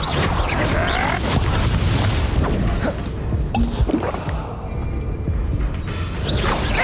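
An Incendio fire spell cast in Hogwarts Legacy on Nintendo Switch, a heavy whooshing boom and crackling burst that swells loudly, dips into a low rumbling tail, then flares again, with no talking.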